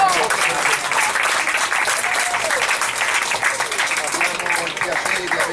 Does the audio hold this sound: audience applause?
yes